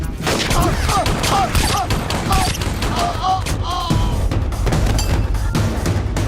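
Police open fire in a Tamil action film scene, a dense, sustained volley of gunshots cracking over each other for several seconds at full loudness with no pause.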